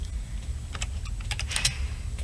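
Typing on a computer keyboard: a quiet scatter of individual key clicks, bunched into a short burst in the latter half, over a low background hum.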